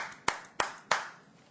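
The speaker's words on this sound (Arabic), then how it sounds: "تصفيق حاد" Three sharp, evenly spaced hand claps ring out close by, each one decaying quickly into a faint reverberant room.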